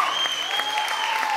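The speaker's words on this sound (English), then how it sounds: "Keep the applause coming." At a UK open mic night, an audience bursts into loud, sustained applause as an act is called up, with a thin high whistle-like tone running through the clapping.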